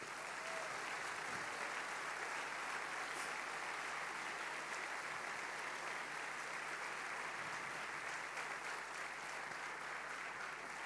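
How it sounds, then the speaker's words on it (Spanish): Steady applause from a large crowd at an evangelistic church service, sustained and even throughout with no pauses. "Vamos a dar un fuerte aplauso a Jesucristo."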